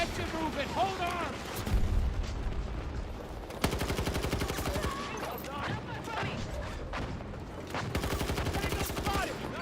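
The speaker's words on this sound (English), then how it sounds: "That was the sniper who was shooting me earlier." Rapid, dense gunfire and booming shots in a video game, including sniper rifle fire, come in loud continuous bursts with heavy low-end impacts while a player's voice comes and goes over the battle.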